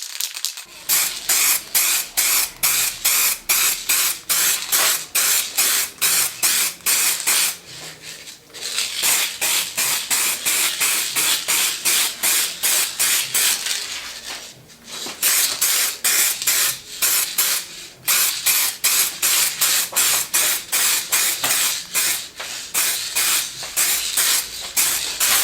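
Spray paint hisses on in long loud bursts while a second coat goes onto a Doppler variometer, broken by short pauses near 8 and 15 seconds, with no talking.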